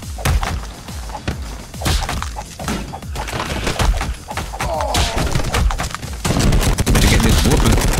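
Gunfire in Madness Project Nexus, with rapid shots and bursts crackling throughout along with impacts and breaking sounds, growing denser and louder toward the end.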